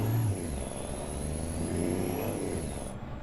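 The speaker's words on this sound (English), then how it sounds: "I might try out one of the other mod engines instead and see what it sounds like" A modded engine in a Freightliner Cascadia truck in American Truck Simulator rumbles and revs steadily at mid pitch, loud and close, with a high whine over it and no talking.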